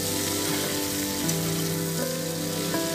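Pointed gourd and pumpkin pieces fry in oil in a pan, giving a steady, close, dense sizzle that runs unbroken from start to finish, with no one speaking.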